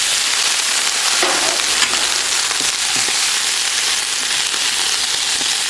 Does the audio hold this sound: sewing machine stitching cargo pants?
no